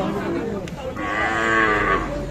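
A calf or cow at a busy cattle market gives a long, drawn-out moo that rises and holds, with faint crowd chatter and other animal sounds in the background.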